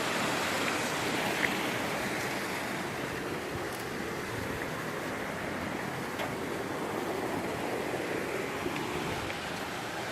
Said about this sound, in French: La rivière.